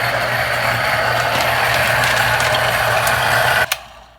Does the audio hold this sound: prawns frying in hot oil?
no